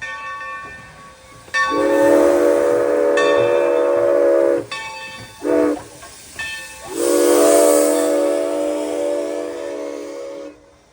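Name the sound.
steam locomotive whistle, Valley Railroad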